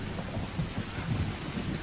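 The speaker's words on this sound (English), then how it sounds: "I wish this rain would stop. I hope it doesn't continue for the whole game." Rain and thunder in the video game The Last of Us: a steady, dense downpour with low rumbling thunder rolling beneath it, loud and continuous with no voices.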